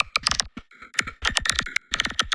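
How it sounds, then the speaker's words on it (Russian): A synthesized clicker-monster call from the game The Last of Us, made from a processed fart sound, gives rapid, wet, irregular clicking bursts in quick clusters separated by short silences. "И вот он, получился этот звук кликера."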